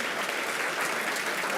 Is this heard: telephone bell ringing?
no